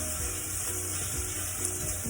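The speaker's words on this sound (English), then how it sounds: "I'm going to saute these onions and mushrooms on medium heat." Onions and mushrooms sauteing on medium heat for vegan wonton soup, giving a continuous close, even sizzle with faint stirring and no voices.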